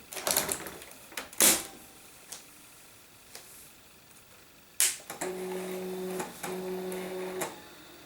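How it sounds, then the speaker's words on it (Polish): An old printer on an Ericsson Portable PC whirs and clatters nearby during the computer's POST startup test, with sharp mechanical clicks and a steady buzzing print-head sweep repeating in short passes. "Było słychać właśnie drukarkę."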